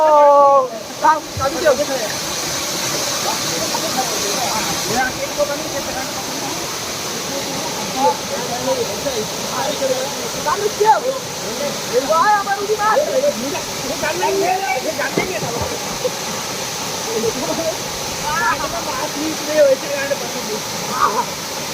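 Steady broadband rush of a village waterfall where people are bathing fills the whole clip, with people talking over it throughout.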